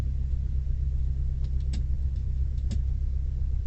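Small airplane engine during takeoff, a heavy continuous low rumble and drone at steady loudness with faint clicks, heard close from inside the cabin with no talking.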